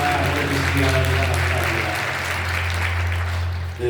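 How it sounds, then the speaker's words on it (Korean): A church congregation applauds steadily after a hymn, dense clapping over a low sustained organ or keyboard tone, tapering off near the end. "네, 박수 주시기 바랍니다."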